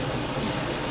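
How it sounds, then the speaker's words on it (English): Water boiling in a pot before macaroni goes in, a steady, close, broadband bubbling hiss that holds evenly throughout with no voices. "Over here, our water has finally started to boil."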